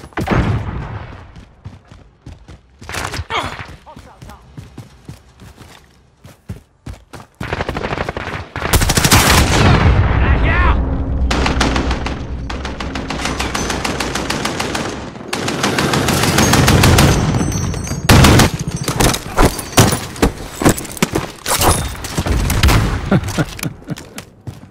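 Dense Call of Duty Modern Warfare gunfire, with sporadic shots giving way to sustained automatic bursts and loud rapid volleys, close and intense throughout.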